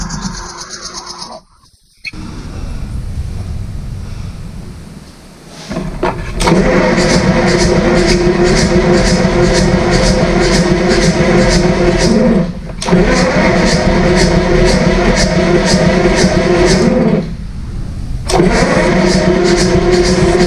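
A B.F. Avery Model V tractor engine cranks over with the starter, catches and runs with a loud steady mechanical drone, then cuts out briefly twice before picking up again, all close and dominating.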